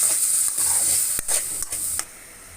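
Chicken pieces fry with browned garlic in a hot pan, a steady bright sizzle broken by a few sharp scrapes and clinks of a spoon stirring, then dropping to a quieter sizzle.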